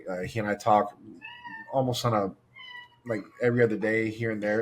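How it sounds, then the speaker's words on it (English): A house cat meows a couple of times nearby, light tonal calls slipping into a pause between stretches of close conversational speech. "I don't know if you heard that, but that was my cat."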